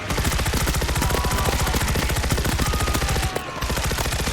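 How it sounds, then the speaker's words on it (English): Rapid automatic gunfire from a fast-firing SMG in World War Z on PS5 rattles in a dense, even stream of shots, loud and close, with a brief gap near the end before firing resumes. "brilliant gun this is it just shoots so fast"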